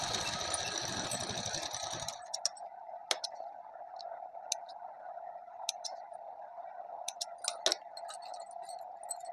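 A sewing machine stitches the shoulder seam of a suit, a steady motor hum after a brief burst of faster running, broken by occasional sharp clicks and taps.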